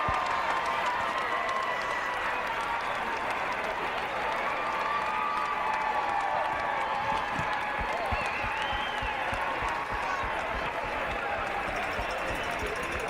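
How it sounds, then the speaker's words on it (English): Roller derby crowd at a bout between the Unholy Rollers and Quad Squad, cheering and applauding loudly and continuously, dense clapping and shouting throughout with voices mixed in. "And the crowd goes wild."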